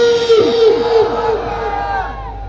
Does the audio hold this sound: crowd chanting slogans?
yes